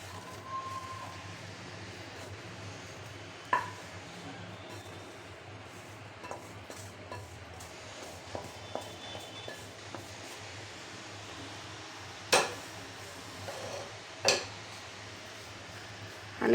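Besan ladoo mixture being scraped from a pan onto a plate, with scattered metallic clinks and scrapes of a spoon against cookware standing out from a low steady background hum, with no talking.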